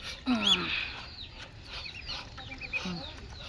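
Chickens cluck and chirp nearby in short bursts against a quiet outdoor background, at feeding time, with ducks kept alongside.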